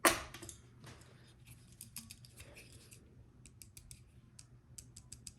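A folding knife's blade is repeatedly flicked open and snapped shut, starting with a sharp click and followed by soft, loose rattles and light mechanical clicks, close and quiet.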